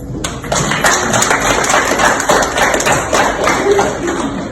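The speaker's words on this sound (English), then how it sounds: "Let's give ourselves a round of applause" Conference crowd at a domestic and family violence prevention event breaks into sustained applause, dense overlapping claps filling the hall loudly and steadily, with faint voices mixed underneath.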